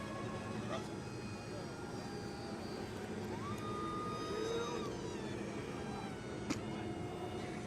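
An RC airplane enters a spin at an outdoor flying event, its engine drone faint and distant with shifting whine, steady under background ambience throughout.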